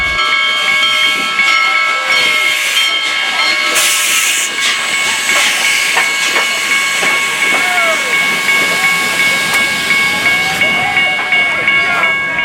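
Union Pacific Big Boy steam locomotive, the world's largest, venting a steady loud hiss of steam with sustained whistle tones, continuous and close throughout with no talk.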